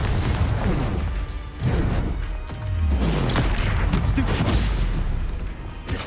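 Booming spell blasts in Hogwarts Legacy, the Confringo fire spell among them, land one after another as loud, dense explosive thuds over a constant rumbling battle din, with no talk heard.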